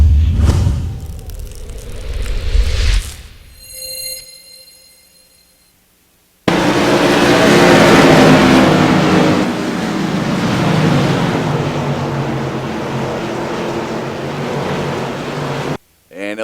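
Modified race cars roaring past at Thompson Speedway during a spin out off turn two, a loud sustained engine and tire roar that swells and fades, preceded by muffled commentary and a brief tonal beep.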